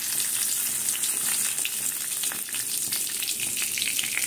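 A bay leaf drops into hot oil in a pan, setting off a loud, continuous sizzle and crackle that holds steady throughout with no voices.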